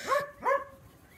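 Two quick, sharp barks from a dog a short distance away, then quiet.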